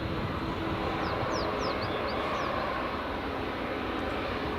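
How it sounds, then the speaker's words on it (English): An Air Canada airliner taxis at Edinburgh Airport, a steady distant engine hum and roar under wind noise, with faint bird chirps and no speech. "Canada just taxiing along there."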